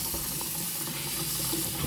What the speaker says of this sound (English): I will just add that into my strainer and let it run with cold water.